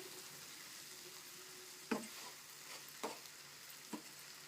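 Fenugreek leaf and tomato curry sizzles steadily in a pan, broken by three distinct scraping stirs spaced about a second apart, close up with no talking.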